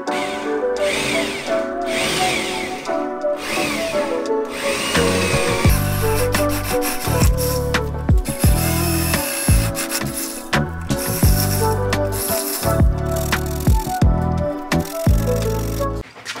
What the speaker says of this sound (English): Alright, so we just sanded